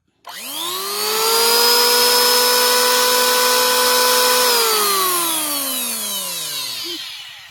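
A Masaki 870 W, 23,000 rpm two-blade electric wood planer with a 3-inch face spins up sharply to a loud, steady high whine, holds it, then winds down slowly near the end, close and alone.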